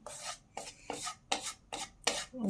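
Roasting besan (gram flour) being stirred with a spatula in a pan, six short scraping strokes in a steady rhythm, close and fairly quiet.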